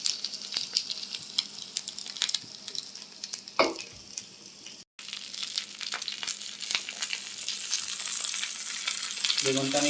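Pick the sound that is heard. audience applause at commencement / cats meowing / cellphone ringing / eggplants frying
eggplants frying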